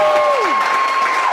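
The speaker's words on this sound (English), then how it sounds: "a round of applause for yourselves" An audience applauds at a live event, a dense wash of clapping that holds steady for a brief moment. A whistling tone glides downward over it.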